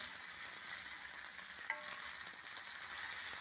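Prawn rava fry, semolina-coated prawns, sizzles steadily in a pan with a soft continuous crackle and a faint clink midway, heard close and without any voices.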